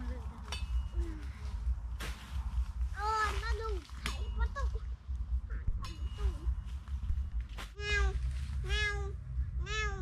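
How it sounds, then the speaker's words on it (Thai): Several cats meow at intervals, with repeated rising calls close by, over low background noise while people talk in Thai outdoors at a rural home. "ยังมีแมวมาอยู่นี่นี่ฮะ"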